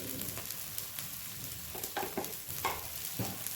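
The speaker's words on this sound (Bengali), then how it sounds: "ভালো করে ভেজে নেবো মশলাটা" Spice paste with turmeric frying in a pan for mustard fish curry, a continuous close sizzle broken by several soft spatters and stirring scrapes, with no voice.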